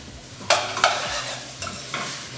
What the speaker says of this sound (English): let's go ahead and add in our chickpeas, our cooked chickpeas. Give it another stir.